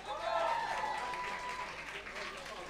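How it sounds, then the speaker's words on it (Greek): Audience applause fills a live concert venue, Ghost House, with a steady wash of clapping and some crowd noise throughout, easing slightly toward the end. "Επίσης, ένα μεγάλο χειροκρότημα για το Dark Secret Club που μας κάλεσε εδώ απόψε."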